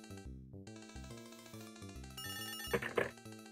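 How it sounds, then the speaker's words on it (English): Telephone ringing in the Leisure Suit Larry video game, a bright electronic ring repeating over steady game music with two louder jangling bursts near the end. "Oh, phone's ringing."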